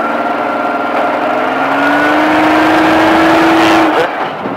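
A Baja off-road vehicle's engine drones loudly and close, its pitch climbing steadily as the throttle opens, then dropping sharply as the driver lifts off near the end.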